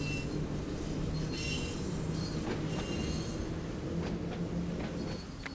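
A train on the Isle of Wight line in Train Sim World 3 runs steadily with a continuous low rumble and a hum, wheel squeals and rail clicks breaking through now and then, staying loud throughout.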